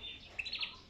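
Breeding canaries chirp in a brief burst of high, thin tweets, close and moderately loud against faint background noise.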